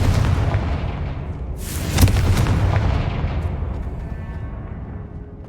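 Confringo fire-blast spell from the Hogwarts Legacy video game, a booming explosive burst with a sharp crack near the two-second mark, over a continuous rumbling game soundscape that slowly fades.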